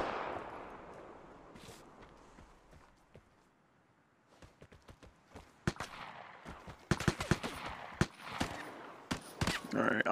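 Gunfire in the multiplayer shooter game Vigor crackles in scattered sharp shots and short bursts, faint and distant at first, then louder and denser toward the end, with speech heard in between.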